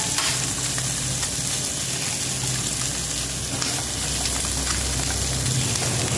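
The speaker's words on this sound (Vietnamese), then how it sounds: "Thì vợ mình đang chuẩn bị rán" Fish cakes frying in a pan in a home kitchen give a loud, continuous sizzle and crackle, with a low background hum and occasional scraping, steady throughout and with no voices.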